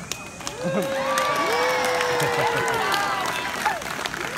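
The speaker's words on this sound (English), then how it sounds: "All right, Natalie, let's see if you can earn some applause." Audience at a live comedy stage show cheers and claps for a volunteer, with high whooping shouts and yells rising over a bed of clapping throughout, fairly close and lively.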